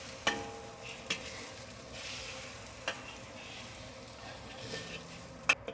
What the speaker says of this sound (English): I'm gonna gently push the egg around the wok